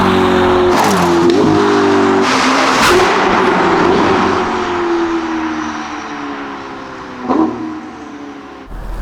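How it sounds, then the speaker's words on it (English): A Ferrari SF90 fitted with a Novitec exhaust system revs continuously, its tone sweeping up and down with a few sharp blips, loud and close with no talking over it. "We have made an exhaust for this car, and I think that's probably what most of you are mad about and want to see what that sounds like."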